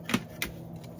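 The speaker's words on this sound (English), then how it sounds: "I'm going to take my scissors, cut the string off." Scissors snip string from a Dollar Tree decoration: two quick, sharp close cuts and a fainter third snip, quiet and isolated with no talking.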